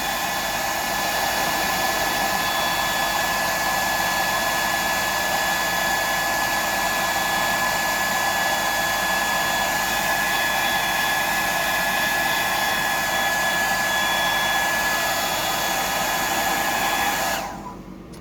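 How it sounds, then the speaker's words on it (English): A hot air dryer blows with a steady, loud broadband roar for most of the clip while drying a 175mm glide mullet fishing lure, cutting off abruptly near the end. "I'll just dry that off because I like the heat on the air dryer."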